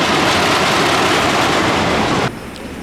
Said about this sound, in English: Right now it is not running butter smooth, but it's also not running terrible, so it's still a fun ride.